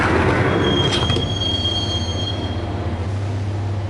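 A subway train in a station in Max Payne rumbles loudly, with a sharp wheel squeal around the first second, then settles into a steady low drone.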